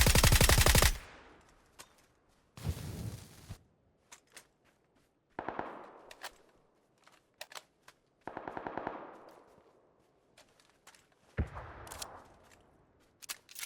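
Bursts of automatic gunfire in the shooter game PUBG, several rapid volleys and scattered single shots separated by short pauses, loud and close.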